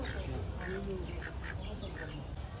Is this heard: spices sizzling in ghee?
no